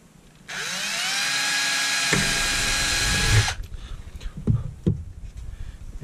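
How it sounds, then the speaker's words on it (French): A power drill whines steadily for about three seconds as it bores through a plate fitted to a recycled 5-litre beer keg, then stops, followed by a few scattered knocks and handling clatters. "je vais percer là où elle est."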